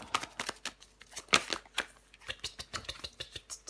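Tarot cards being drawn and handled: a quick run of crisp papery flicks and slaps, close and fairly loud, with one sharper snap near the middle.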